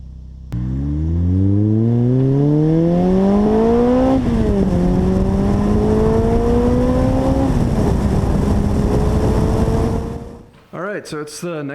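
A Lotus sports car's engine revs hard while driving, climbing loudly through the gears with sharp shifts, then easing off as a brief voice follows.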